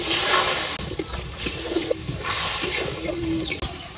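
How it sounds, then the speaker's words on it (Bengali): Steady hissing and bubbling as a little water hits shrimp and spices frying in a pan in a village kitchen, with a few soft clinks and no speech. "মশলা ভালোভাবে কষানোর লেগে একটু পানি দিয়ে দিলাম।"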